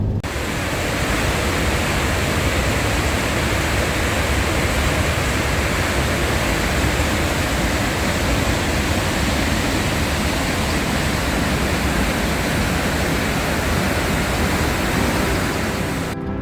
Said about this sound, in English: the overflowing river that's going through Yellowstone already